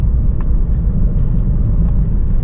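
Steady low road rumble from inside a moving RV, a constant loud drone of engine and tire noise with faint rattles and no talking.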